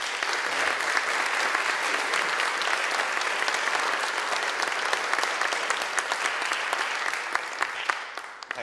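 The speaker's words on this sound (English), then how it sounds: "give a tremendous round of applause to the Student Union President and his team for what they've done in promoting these awards" Sustained, dense audience applause fills a hall at the NUI Galway Students' Union Enterprise Awards, honouring the Student Union President and his team; steady clapping from a large crowd that fades slightly at the end.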